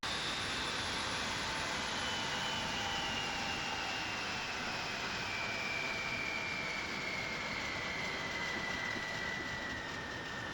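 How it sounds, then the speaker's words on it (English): Boeing 727 freighter jet engines spooling down in the simulator game MSFS2024, a loud steady whine and roar with a high tone that slowly falls in pitch across the whole stretch, no voices. "We can now turn the engines off."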